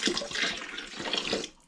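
Liquid squeezed from hops is poured on top of a home-brew Vimto cider mix, a close, splashy stream of pouring that runs steadily and then tails off at the end.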